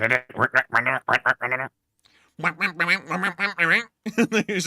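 A duck quacks in rapid rhythmic bursts, a run of loud close quacks, a brief pause, then another long series and a final cluster, heard alone without talk.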